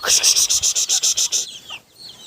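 A rapid series of loud, sharp clucks in quick regular rhythm, close by, followed by a softer squawk and quieter fowl sounds, with turkey poults and chicks around.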